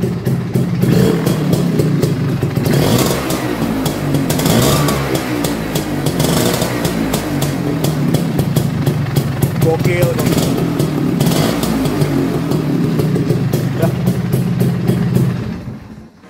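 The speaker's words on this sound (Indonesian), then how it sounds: "suka banget sih dengar suara motor 2 tak atau Vespa 2 tak kayak gini" A small two-stroke Vespa P200XE scooter engine revs and idles loudly up close, its rattly buzz rising and falling, with someone briefly talking over it.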